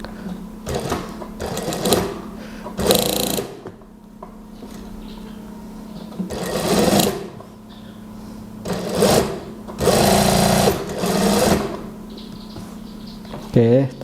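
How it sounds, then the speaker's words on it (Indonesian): A sewing machine stitches the sleeve seam of a dress in several short whirring bursts separated by pauses. It is close and moderately loud, and someone talks quietly between and over the runs. "Kemudian kita jahit dari sisi sini."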